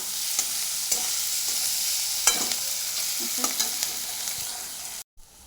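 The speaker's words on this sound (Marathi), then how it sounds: "कांदा परतताना त्यामध्ये थोडं मीठ टाकून घ्यायचं कारण कांदा लवकर पटकन परतला जातो" Chopped onion sautés in a pan, a soft continuous sizzle broken by a series of scraping spatula strokes, before the sound cuts out near the end.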